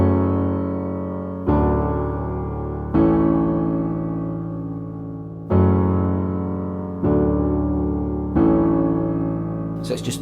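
Solo piano plays the second part of the chorus of a song: six chords struck at an unhurried pace, each sustained and decaying, moderately quiet with no talking.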